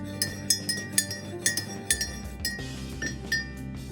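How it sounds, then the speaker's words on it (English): A spoon clinks repeatedly against the sides of a cup while stirring milk into tea, a quick run of bright, close metallic taps in an uneven rhythm with no one speaking. "Make sure to give it a good stir as well,"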